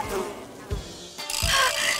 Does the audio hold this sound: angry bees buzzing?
yes